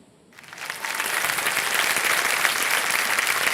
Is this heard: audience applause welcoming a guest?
yes